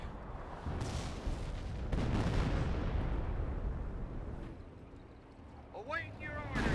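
A Wurfrahmen half-track's rocket barrage in Company of Heroes rumbles and booms in overlapping blasts, a long heavy roll that swells and fades, while a commentator talks over it and a short whistling burst comes near the end.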